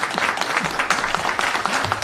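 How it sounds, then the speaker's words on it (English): A roundtable audience bursts into brisk, close applause, many hands clapping densely and evenly for the whole short stretch. "And that is an applause line."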